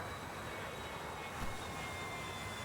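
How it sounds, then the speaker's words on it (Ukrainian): Aircraft engine droning overhead in the War Thunder combat game, a continuous moderate whine and rumble with a brief thump partway through, no voices. "тут зліва літак"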